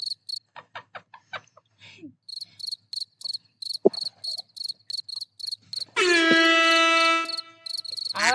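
Rapid, regular cricket chirps repeat in a steady pulsing pattern through the sound effect, joined midway by a sustained loud horn-like tone, with a few scattered clicks and bumps.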